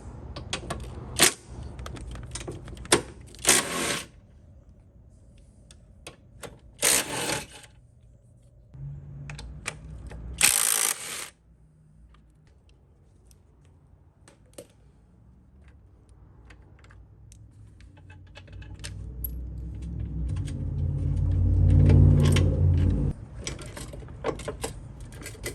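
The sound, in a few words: removing 15 and 19 millimeter Ford Focus engine mount bolts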